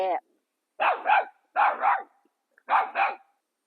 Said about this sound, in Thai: ข้อยถ่ายคลิปกับหมาเห่าเนาะ